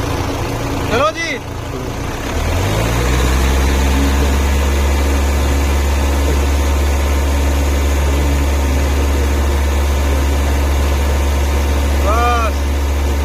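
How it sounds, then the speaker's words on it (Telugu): A 2019 Jeep Compass Limited Plus with 61,000 km idles close by: after a brief startup the engine settles into a steady, even low rumble that runs unbroken to the end. "ఇంజన్ సౌండింగ్ అనేది చాలా అద్భుతంగా ఉంది."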